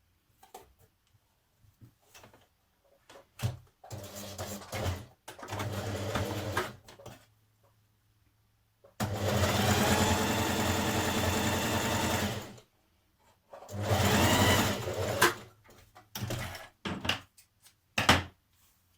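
A sewing machine stitches a 1940s vintage-style blouse from Simplicity pattern 8736 in several bursts of steady whirring, one long run in the middle, separated by quiet pauses and small handling clicks, close up.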